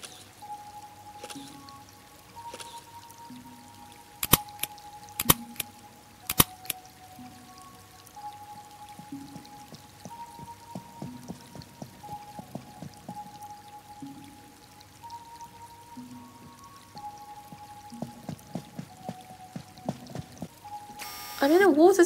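Animal Crossing: New Horizons museum water tunnel, with water trickling and dripping gently under soft game music, broken by a few sharp clicks and some louder splashy bursts near the end.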